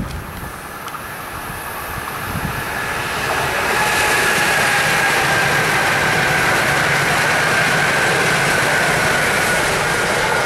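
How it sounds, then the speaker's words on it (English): A train approaching and passing by, its rumbling rail noise swelling from moderate to loud and holding steady, with no talk. "There's a train coming."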